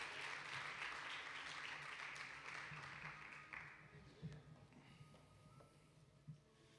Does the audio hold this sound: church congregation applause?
yes